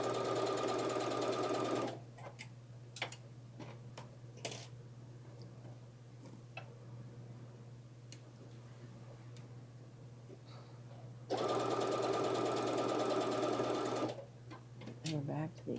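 Sewing/embroidery machine stitching a tunic seam in two steady buzzing runs, a long one at the start and a shorter one later, close and clear, with soft handling clicks and quiet talk in between.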